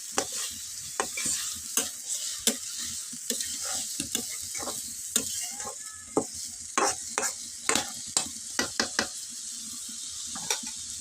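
Chowmein with vegetables and spice paste fries in a pan under a constant low sizzle. It is stirred often, and a spatula scrapes and knocks sharply against the metal in an irregular rhythm.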